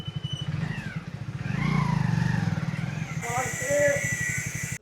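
A motorcycle ridden along a village road toward home, its engine chugging in a rapid steady pulse close to the mic, rising and easing with throttle, while someone talks over it throughout.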